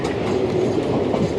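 Steady, close rolling roar and rhythmic clickety-clack of the Tungabhadra Express running on rails, heard from aboard near Mahabubnagar, with no voices.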